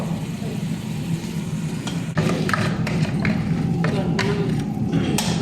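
Masala-coated fish sizzle in hot oil for a fish biryani, a steady frying hiss with sharper crackles and pops after the pieces drop in, close and fairly loud.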